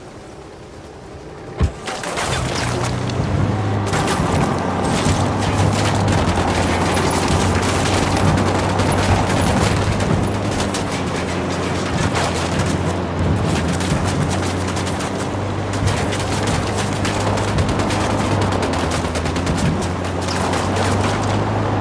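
Sustained automatic gunfire from the video game Ghost Recon Wildlands, starting abruptly with a sharp shot after a brief lull, then dense continuous bursts and booms with a steady low mechanical drone underneath, loud and close throughout.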